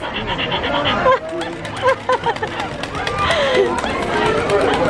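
A small dog yips and whimpers in short bursts close by, mixed with people chatting over it.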